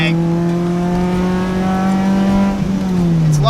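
Honda Civic Type R clone with a K20R engine revving hard on a dyno, a loud steady high-rpm wail that holds, then dips and shifts pitch near the end as VTEC engages.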